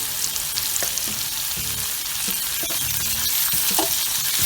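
Leeks and dry fish with chili flakes fry and sizzle steadily in a pan, with a spatula stirring and scraping at intervals throughout; no one speaks.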